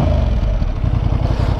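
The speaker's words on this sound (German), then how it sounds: "Ein kerniger Zweizylinder. Blabbert auch ein bisschen." Honda Hornet twin-cylinder motorcycle engine running at a steady, throaty idle, close and loud with a rough, chuffing pulse, on stock exhaust, alone without talk.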